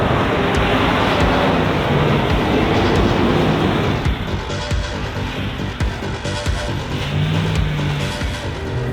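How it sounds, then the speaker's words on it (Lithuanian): A JLTV military vehicle drives over a very rough road, giving a loud, continuous rumble with rattling and clattering that persists throughout, with no talking. "O dabar važiuojame per tikrai labai nelygų kelią"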